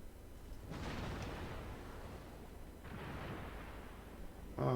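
Battleship guns fire in a naval video game, two deep rumbling blasts spaced a couple of seconds apart, each rolling out into a long low roar, with a sharper burst at the end.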